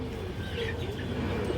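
Soft low cooing from an old-line Bagha female pigeon, brief and close, with faint chirps in the background.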